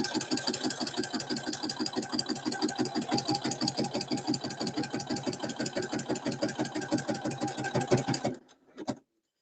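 A sewing machine stitches fabric in a fast, steady mechanical rhythm of even pulses for about eight seconds, then stops with a brief final burst, close and alone.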